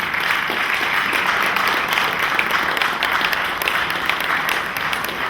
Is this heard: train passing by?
no